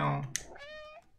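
A cat meows in the video game Stray, a single rising, drawn-out mew heard up close right after a brief voiced sound.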